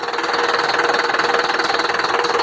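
A car's air conditioning compressor engaging with the engine idling, giving a steady, close mechanical hum with fast regular pulsing and a broad hiss, running alone without voices.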